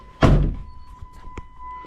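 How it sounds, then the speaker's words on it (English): A car door on a 2013 Jeep Wrangler shuts with one solid, close thunk, followed by a few faint knocks while a steady beeping chime continues in the background. "I'm just going to shut the door till it..."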